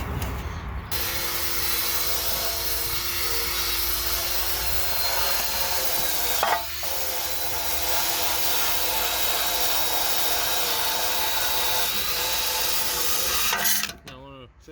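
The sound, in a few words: scrubbing transmission pan with plastic bristle brush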